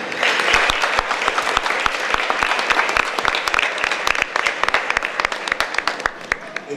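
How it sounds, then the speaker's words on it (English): Audience applause at a Haitian radio station's anniversary gala, a dense steady wash of many hands clapping for nearly seven seconds, with sharp individual claps standing out near the front. "I would like for all of you to give yourselves a round of applause"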